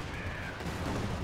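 An IL-2 strafing run in Company of Heroes 2, heard as a brief, dense burst of gunfire and rumbling impacts that wash together into a steady roar.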